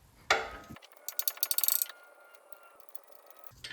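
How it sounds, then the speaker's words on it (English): A large ratchet clicks rapidly as it breaks alternator bolts free on a 2014 Toyota Camry with the 2.5L four-cylinder engine, giving a sharp metallic knock, then a quick burst of close ratcheting clicks with a faint ringing after. "Now using the large ratchet, we're able to break these free."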